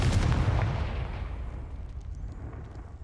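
A Confringo explosion spell from the video game Hogwarts Legacy bursts with a loud, booming blast at the start, then a rumbling tail slowly fades, with no talking.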